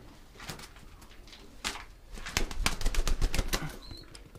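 Feral pigeons flap their wings inside a loft, a series of close, rapid fluttering bursts that grow busier toward the end, with a brief faint chirp near the close.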